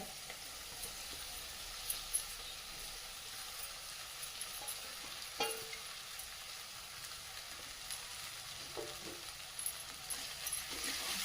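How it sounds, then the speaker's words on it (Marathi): Soaked poha (flattened rice) is stir-fried in a pan over a lowered flame, giving a soft, even sizzle with light clicks and scrapes of stirring, with no voices. "आता व्यवस्थित गॅस कमी करून व्यवस्थित परतून घेऊया।"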